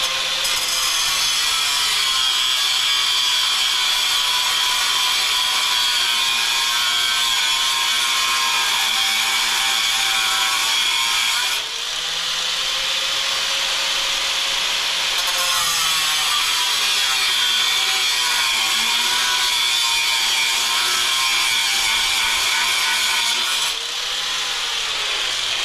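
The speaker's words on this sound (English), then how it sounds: "to take the cutoff tool and I'll go in there like that at an angle" Cutoff tool grinding through metal on a K100 cabover truck during a radiator install, a steady high whine that runs continuously with brief dips in pitch as the blade bites, close and loud with no talking.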